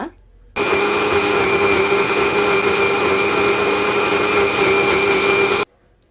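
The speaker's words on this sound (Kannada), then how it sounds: "ಇದನ್ನು ನಾವಿವಾಗ ಮಿಕ್ಸಿಗೆ ಹಾಕ್ಕೊಳ್ತೀನಿ ಮಿಕ್ಸಿಗೆ ಹಾಕ್ಕೊಂಡು ನೈಸ್ ಪೇಸ್ಟ್ ಮಾಡ್ಕೊಳ್ಳೋಣ" A mixer grinder whirs steadily as it blends a homemade hair mask into a fine paste. The loud, even motor drone starts abruptly and runs about five seconds before cutting off, with no talking over it.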